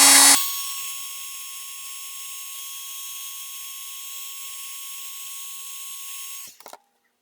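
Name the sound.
heat tool heat-setting embossing powder on a card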